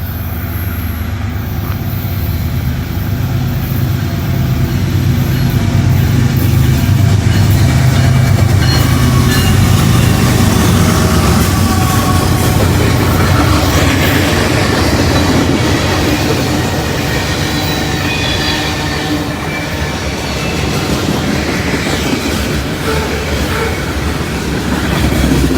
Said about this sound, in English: Looks like we got a mixed manifest here.